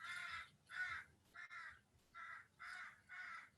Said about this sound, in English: the birds near me are clearly having opinions about what's going on